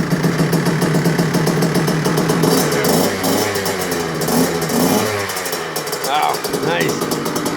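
A freshly rebuilt dirt bike engine with a new piston and rings revs up and then settles into a steady idle, loud and close, while people talk over it.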